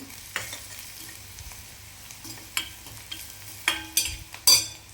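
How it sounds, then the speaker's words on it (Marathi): Onions sautéing in a pan with chili powder, masala, turmeric, salt and sugar, a soft steady sizzle broken by several scraping stirs of a spoon, growing louder toward the end. "आपण हे तिखट, मसाला, हळद, मीठ आणि साखर टाकून घ्यायच्यात आणि ते पण एकदा परतून घ्यायचं"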